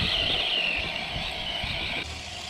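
A Traxxas Slash 4x4 RC car with a water-cooled electric motor runs steadily at half throttle, a continuous high-pitched whine with a dip at about two seconds, close and moderately loud, with no talking.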